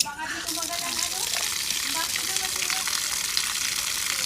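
Water gushes hard from a tap in a steady, loud rushing stream, and a voice can be heard briefly at the start.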